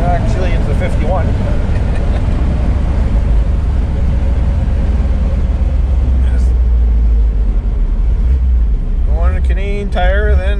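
1951 Ford F1 half-ton hot rod pickup, a field find on its first drive in 35 years, cruising with a loud low engine drone throughout while someone talks over it.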